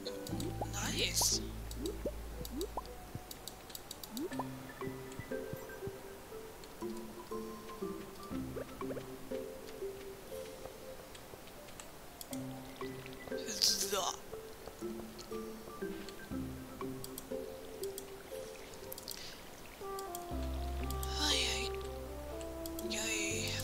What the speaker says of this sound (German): Deshalb gieße ich die.